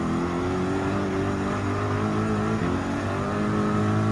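A race car engine in the Gran Turismo 7 racing game, an AMG GT3 in a Manufacturers Cup race, drones loud and steady, its harmonic whine holding with a slight shift as it runs close by throughout.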